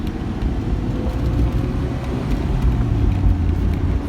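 A 1987 Bertone X1/9 accelerates in third gear, its engine and exhaust producing a steady, loud low rumble that holds throughout without pause.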